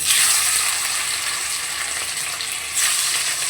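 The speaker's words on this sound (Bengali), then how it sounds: "তেলটা বেশ গরম হয়ে গেছে আর গ্যাসটা অল্প একটু কমিয়ে নিলাম এবার পনিরগুলোকে সব ভেজে তুলে নেব" Paneer frying in hot white oil in a kadai over lowered gas, a loud, steady broadband sizzle that holds nearly constant throughout, with a brief dip before resuming, no voices.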